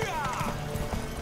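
Hooves of a galloping horse in The Witcher 3 thud in a quick steady rhythm over game music and ambience, with a voice speaking over them.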